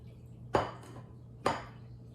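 Two distinct clinks of fried egg-yolk sticks lifted off a plate, each a bright ceramic tap with a short ring, close and clear over a faint low hum.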